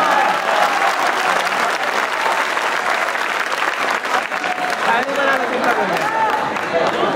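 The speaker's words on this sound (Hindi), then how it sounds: "एक मरतबा सब मिलकर जोरदार तालियां बजा दीजिए" Audience at a poetry recitation event clapping loudly and continuously, a dense wash of applause sustained for several seconds, with voices faintly mixed in underneath.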